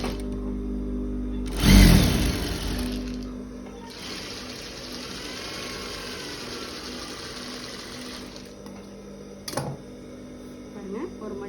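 A sewing machine stitches hook-and-eye tape onto a blouse. After a loud thump, it runs steadily for several seconds at moderate volume, and a brief sharp clack follows near the end.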